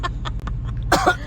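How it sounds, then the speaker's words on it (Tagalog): A person coughs a couple of times in short bursts, outdoors near ruins being repaired after typhoon Odette, heard close over a low steady background hum. "itong isa nakakahiya, umuubo"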